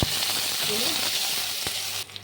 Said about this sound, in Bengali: 30 সেকেন্ড মতন ভাজা হয়ে গেছে